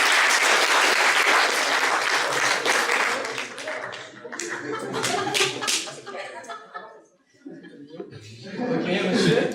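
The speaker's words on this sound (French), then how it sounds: "on l'applaudit bien fort" Audience at an improv theatre show applauding a guest as she arrives, loud dense clapping that thins out, with laughter and voices heard through it.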